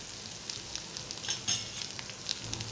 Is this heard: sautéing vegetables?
yes